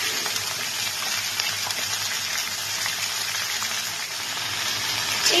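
Mixed vegetables with green chilli sizzle and crackle steadily in a hot pan while being stirred for a vegetarian chorchori, a continuous close frying hiss with no talking.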